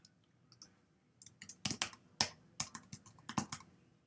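Keys clack on a computer keyboard as a title is typed, starting with sparse taps and then settling into irregular bursts of close, crisp clicks in a quiet room.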